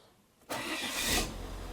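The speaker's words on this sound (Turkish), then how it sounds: "Şimdi bakın kontağımızı açtık. İlk marş sesini duyurayım diye." A car engine, fresh from a full rebuild, cranks briefly and catches, then runs with a steady, loud idle close to the recorder, with no talking over it.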